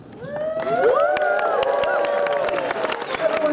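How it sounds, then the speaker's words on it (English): A live reading audience at Disney California Adventure breaks into applause with cheering and whoops rising over sharp claps, the crowd swelling quickly and staying loud. "Everyone applauds."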